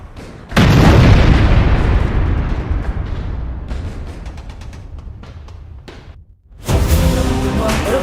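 A cartoon bomb detonates in an animated border-war battle: a loud, broadband boom that rumbles and slowly fades over several seconds, then a second blast bursts in near the end.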